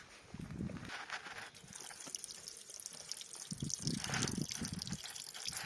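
Water from a natural spring trickles into an outdoor natural swimming pool in Spain, a faint continuous trickle with soft low splashes and drips that grow slightly busier toward the end.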